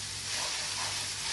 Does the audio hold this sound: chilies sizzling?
yes